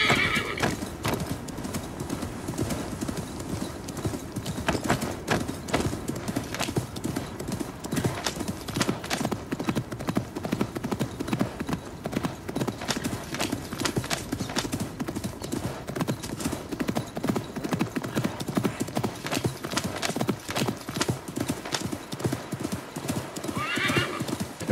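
A horse in Assassin's Creed Mirage gallops with steady, rapid clip-clop hoofbeats running throughout, whinnying and neighing near the start and again at the end, loud and close.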